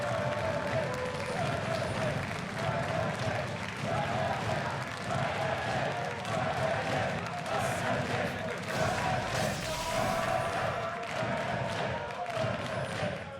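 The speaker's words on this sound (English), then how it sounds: "The crowd beats out a nice rhythm there." A large esports crowd at a League of Legends match between G2 and Fnatic claps and chants in a steady, continuous rhythm, filling the arena with dense noise throughout.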